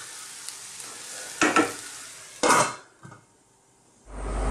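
Tomato sauce boiling hard in a covered pan as the lid is lifted to let steam out: a few loud bursts of sizzling, bubbling hiss and a clatter, then a low rush, with no talking.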